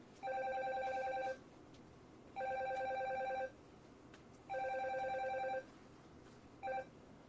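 A telephone bell rings in three long bursts followed by a short fourth one, clear but moderately quiet over a faint background hiss.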